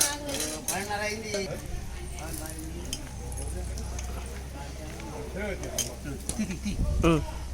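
A utensil stirs chicken curry with ginger in a pot over a wood-fired stove, producing scraping and metallic clinks up close while a person talks throughout.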